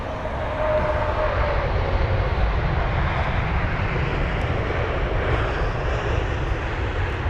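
A Lufthansa airliner at London Heathrow roars with a loud, steady broadband engine rush that holds for several seconds; no voices.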